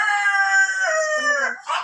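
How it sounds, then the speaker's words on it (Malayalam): A rooster, a fighting cock, gives one long crow lasting nearly two seconds, loud and close, with a rising, drawn-out call that breaks into a rougher tail at the end. "ഇതാണ് ഗൈസ് കോഴി"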